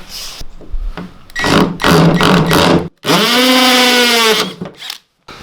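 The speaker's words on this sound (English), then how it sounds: "So now I will drill." Power drill boring holes for mounts, high whining bursts that start and stop, then a long steady run with the motor pitch climbing before it cuts off, loud and close, with no talk.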